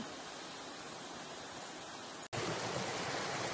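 Steady rushing roar of falling water close by at Bisay Falls in Sual, Pangasinan, Philippines, with a brief break before the roar returns slightly louder.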